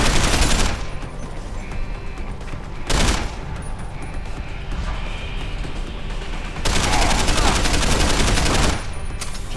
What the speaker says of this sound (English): Just shooting around the corner.